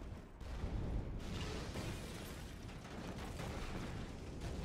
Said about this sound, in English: let's watch this detailed explosion